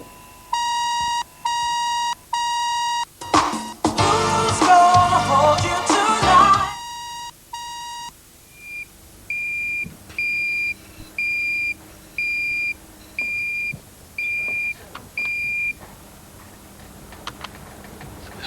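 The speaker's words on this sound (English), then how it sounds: "Have a fire alarm at Ruffington, Dick." An electronic alarm sounds in loud repeated beeping bursts, interrupted by a few seconds of clattering noise, then continues as a steady series of evenly spaced higher-pitched beeps.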